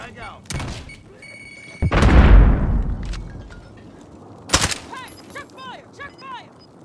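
Call of Duty Warzone gunfire: a few sharp shots and a heavy boom with a long decaying tail, then another crack, with excited players talking over voice chat.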